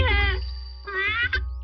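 A cartoon cat meows twice in a Doraemon episode, a long drawn-out tonal meow followed by a second rising one, loud and close over a low background hum.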